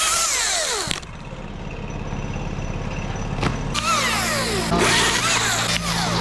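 A small BC 700 battery chainsaw cuts tree limbs up in a tree, its steady whirring drone cut by brief pauses, then resuming with sharp rising whines as the blade bites through wood, loud and close.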